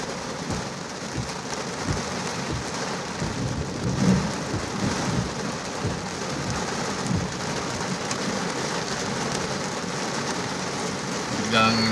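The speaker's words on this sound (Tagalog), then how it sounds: "Umuulan po." Steady rain pours outside a family home, a dense continuous hiss with drops pattering on surfaces, rumbling faintly underneath throughout, with no pauses.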